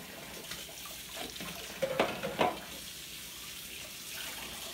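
Water from a kitchen tap splashing over juicer parts as they are rinsed, a soft continuous gush with a couple of louder splashes midway, heard alone without talk.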